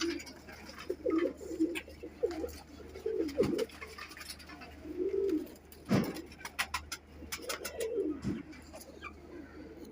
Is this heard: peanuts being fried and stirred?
no